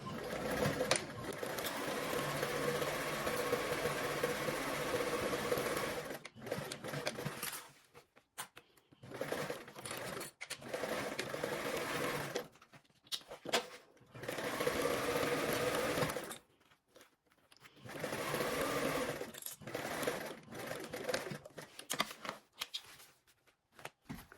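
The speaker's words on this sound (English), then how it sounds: "Now we're going to go ahead and sew this with a 1/4 seam allowance" Sewing machine stitching fabric along a quarter-inch seam, running in fast bursts of rapid mechanical clatter with short pauses and quiet gaps between runs.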